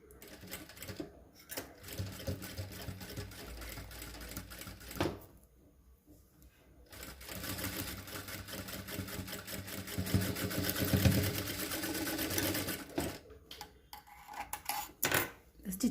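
Sewing machine stitching the shoulder seam of a blouse, bursts of rapid mechanical needle chatter separated by pauses and handling clicks, the longest run lasting several seconds midway, with occasional soft speech nearby.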